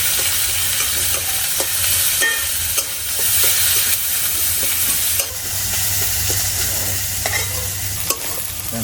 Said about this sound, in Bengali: আমার রসুন আর পেঁয়াজ গুলো ভাজা হয়ে গেছে